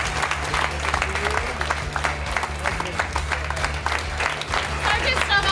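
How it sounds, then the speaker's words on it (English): An audience claps in a steady round of applause for a local police sergeant honored at a community event, with crowd voices and a low hum mixed beneath the continuous clapping. "Another round of applause."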